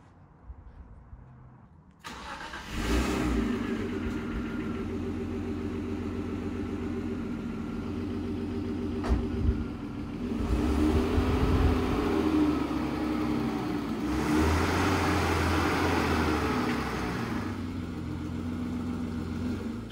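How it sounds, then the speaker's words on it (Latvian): A BMW E36 starts up after a long rebuild and then idles and revs on its first test drive, its engine catching abruptly, settling into a steady mid-pitched hum, and rising into louder revving surges. "Šis būs mans pirmais testa brauciens kopš decembra."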